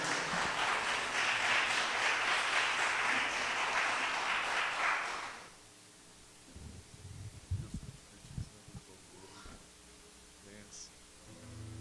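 Congregation at an evening church service held in a garage applauds in praise, a loud dense wash of clapping for about five seconds that cuts off abruptly, followed by quiet room noise and some faint movement.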